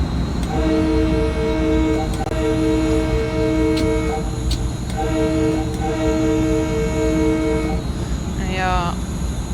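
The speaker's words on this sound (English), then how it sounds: "It's probably the first time a train with a horn has been in these tunnels." A train's horn sounds inside London Underground tube tunnels in the Train Sim World 2 video game, with loud sustained tonal blasts repeating in long bursts over a steady rolling rumble of the train, ending with a short rising squeal.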